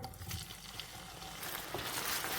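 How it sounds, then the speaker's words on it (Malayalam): Okra frying in hot oil in a pan, a steady, soft sizzle that keeps up without a break, rising a little toward the end, with no voices over it. "വെണ്ടയ്ക്ക നമുക്ക് നന്നായിട്ട് ഫ്രൈ ആക്കി എടുക്കാം"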